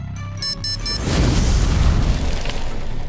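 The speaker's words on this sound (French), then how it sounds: "Soudain, une explosion." In a visual novel, a few bright chiming tones ring out, then a loud deep explosion booms and rolls on as a sustained roaring rumble.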